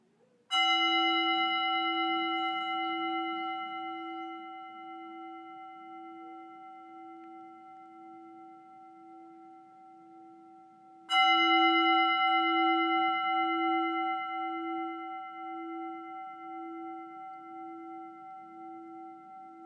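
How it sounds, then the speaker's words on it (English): Two strikes of a meditation bell, each a clear sustained ring that slowly fades into silence, alone and close. "As the bell fades away"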